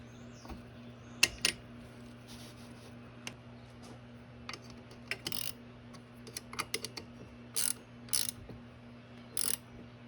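A ratchet tightening bolts on a 2009 Coolster 125cc that sat parked for nine years, in short bursts of rapid clicking separated by pauses, close up over a faint steady hum.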